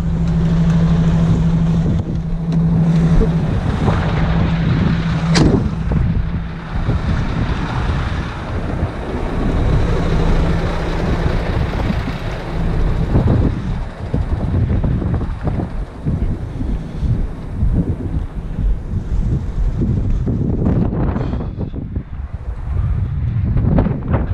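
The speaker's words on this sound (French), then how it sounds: "Il fait un vent pas possible d'ailleurs." Strong wind buffets the microphone in a continuous loud roar, with gusts rising and falling and a low truck engine hum underneath.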